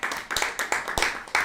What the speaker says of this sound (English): Applause to player number 4.